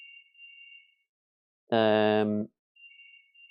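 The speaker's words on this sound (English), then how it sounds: "Oh, phone's ringing." A phone ringtone sounds once as a loud, steady, harmonically rich tone lasting under a second, framed by a faint, thin high beeping before and after it, in an otherwise quiet room.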